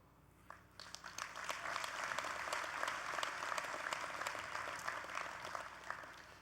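A convention crowd claps during a union keynote speech in Anaheim, applause swelling quickly from scattered claps into a sustained dense roar that carries on steadily.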